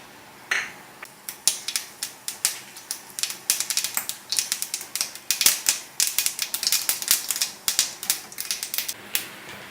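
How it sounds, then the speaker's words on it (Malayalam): Mustard seeds crackle in hot coconut oil in a pan, a rapid, irregular burst of sharp close pops that quickly thickens and keeps going, with no talk over it. "കടുക് പൊട്ടിയിട്ട് നമുക്ക് ഇതിലേക്ക് ഉഴുന്നിട്ട് കൊടുക്കാം."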